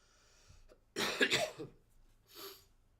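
A few sharp, harsh coughs burst out close by, one after another, followed by a softer cough after a short pause, with quiet room noise between.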